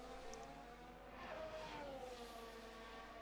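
Race cars in the F1 Manager 2025 video game swarm past in a faint, continuous whine of engines with pitches shifting as they go by.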